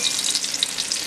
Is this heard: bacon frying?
yes